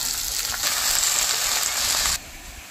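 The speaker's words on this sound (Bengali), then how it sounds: "এবার আমি ধুয়ে রাখা কুমড়োর ফুলগুলি দিয়ে দেব।" Washed pumpkin flowers go into a pan of onions frying in hot oil. The sizzle jumps to a loud, crackling hiss right after they are added, then drops back to a quieter fry, with no voices.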